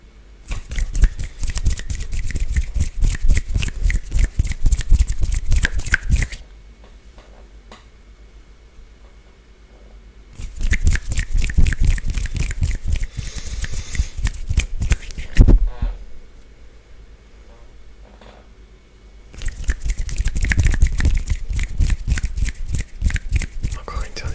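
Hand noises for ASMR, made by rubbing and rustling the hands close to the microphone. They come in three long, steady bursts separated by near-silent pauses.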